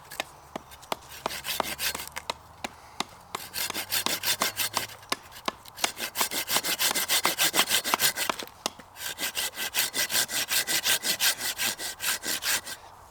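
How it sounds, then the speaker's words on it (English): Wood is shaved with an axe or sharp knife to carve a handle for a mallet at a camp, giving repeated rhythmic rasping strokes in bursts. The scrapes are close, crisp and fairly loud, with brief pauses between runs and no talk. "with my axe or with a sharp knife I'm just going to shave off the bits to make a handle and just make a bit of a mallet"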